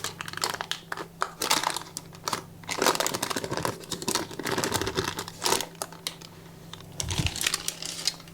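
Baking paper peeled and crinkled off a freshly baked Japanese cheesecake souffle, a run of close, crisp crackling and rustling bursts with brief pauses between them, no talking.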